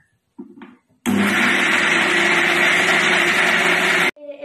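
A blender grinding jackfruit with sugar whirs loudly and steadily for about three seconds, starting and stopping abruptly, with brief clatter just before it kicks in.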